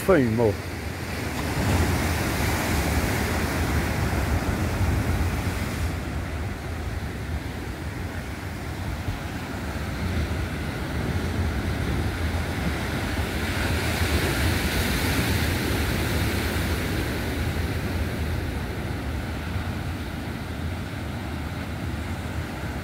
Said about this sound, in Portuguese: Ah, vocês que vejam que onda de mar,